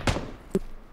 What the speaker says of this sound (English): Good flashbang.